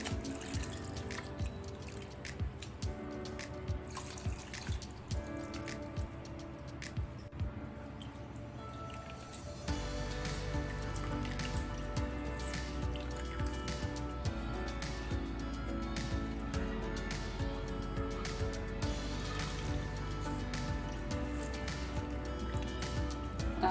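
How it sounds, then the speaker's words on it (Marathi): Water dripping and squishing as shredded cabbage is rinsed, with steady wet trickles and soft squelches throughout, close by. "टाकलेला कोबीचा किस पाण्याने धुवून घ्यायचा स्वच्छ"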